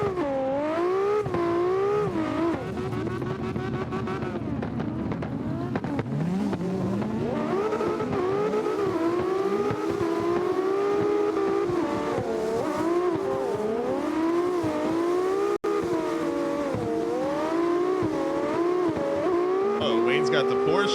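A Porsche race car runs on a track at night in St. Pete, its engine droning loudly and rising and falling through gear changes and corners, with occasional tire noise, heard continuously under a voice talking.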